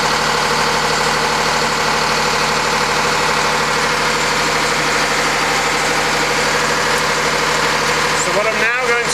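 An engine runs steadily while turning a motor as a generator. The drone is loud, constant and close, with a whirring hum throughout and a brief knocking disturbance near the end.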